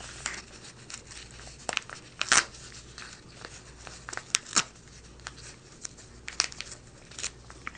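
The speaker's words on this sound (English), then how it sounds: "you can hear that ripping sound" Paper being pulled free and ripping, heard as scattered sharp tearing bursts and crinkles between quiet stretches, close and fairly soft, with no talking.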